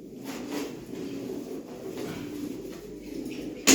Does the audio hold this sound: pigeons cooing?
yes